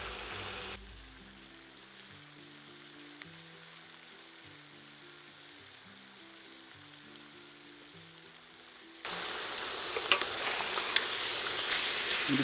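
Lamb chops and feathered onion slices sizzling steadily in a pan, a soft continuous frying hiss with faint utensil clicks, growing louder and brighter near the end.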